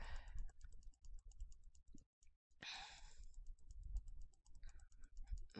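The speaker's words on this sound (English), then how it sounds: "If you guys can hear the clicking, that's me clicking my mouse frantically" A computer mouse clicked frantically during a League of Legends game, with rapid, regular sharp clicks close to the microphone and a brief pause partway through.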